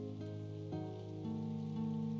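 Rain falls steadily in the video game Impostor Factory, a soft continuous patter beneath sustained tonal game music with shifting chords.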